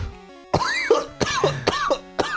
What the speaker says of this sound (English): I made myself cough.